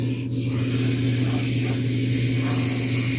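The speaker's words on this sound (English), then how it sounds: "I got some clogging my airbrush." A partly clogged airbrush spraying paint gives a close, steady hiss with a faint underlying hum and a brief sputter at the start, with no voices.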